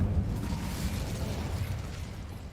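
Incendio fire spell blast in the Hogwarts Legacy video game, a sustained loud roaring burst with heavy low rumble lasting throughout, no voices.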